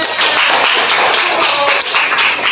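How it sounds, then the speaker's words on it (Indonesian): Applause from a class of students fills the room in a continuous, steady patter of hand claps lasting throughout, fairly loud and with no talk over it. "Kasih aplaus untuk kawannya"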